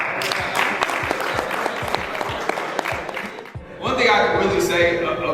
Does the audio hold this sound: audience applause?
yes